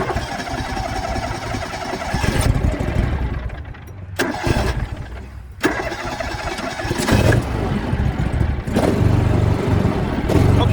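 A John Deere 345 snow blower engine cranks and catches in several attempts, with rough bursts and brief gaps between them, then settles into a loud running idle, close up.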